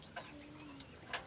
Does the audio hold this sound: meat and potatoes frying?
no